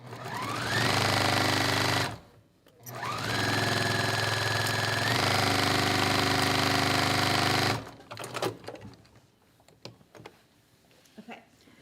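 A sewing machine chain-pieces quilt star blocks, running loud and steady for about two seconds, then pausing briefly before a longer run of rapid stitching. The fabric is then handled with light rustles and clicks.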